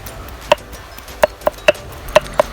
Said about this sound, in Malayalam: നമുക്ക് ഈ ബീഫ് ഇതുപോലെ ഒരു കല്ലിൽ വെച്ചിട്ട് വേറെ കല്ലെടുത്തിട്ട് ഇതുപോലെ ഒന്നിങ്ങനെ കുത്തി കൊടുക്കണം, കുത്തി ചതച്ച് കൊടുക്കണം